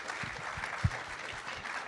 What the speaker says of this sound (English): can we give them some applause?